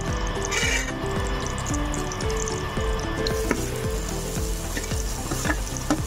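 Chopped onion frying in a pan, a steady close sizzle with a soft, regular scraping of stirring repeating every half second or so throughout.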